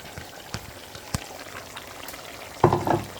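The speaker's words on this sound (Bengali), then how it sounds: "এখন আমি চিকেনের সাথে ভেজে রাখা আলুটা অ্যাড করে নিচ্ছি" Chicken with previously fried potatoes added cooks in a pan for spicy chicken teheri, giving a soft, low sizzle with a few sharp clicks and a louder burst of frying near the end.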